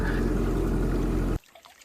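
Groundwater running into a freshly dug hole in clay for a cabin well, a close, steady watery rush that cuts off abruptly, leaving near silence.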